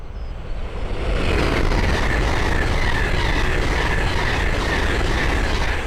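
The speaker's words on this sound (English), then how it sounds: "the next train to pass by is a Hull Train 800 from London King's Cross to Edinburgh Waverley" A Hull Trains class 800 from King's Cross to Edinburgh Waverley rushes past on the East Coast Main Line, a loud, sustained roar that swells within the first second and holds steady to the end.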